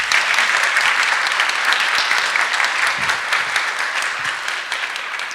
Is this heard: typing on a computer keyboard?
no